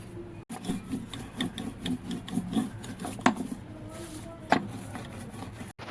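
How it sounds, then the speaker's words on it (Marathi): Washed colocasia (alu) leaves rolled flat with a rolling pin, a steady rubbing, rasping rhythm of repeated strokes close by, with a couple of sharper knocks partway through. "आलूचे पान स्वच्छ धुवून त्यानंतर डेट काढून मग त्याला लाटणाने लाटून घ्यावे"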